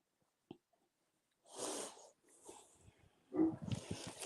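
A female dog howls and vocalizes in a few short, close bursts separated by near silence, with a small sharp sound at the start.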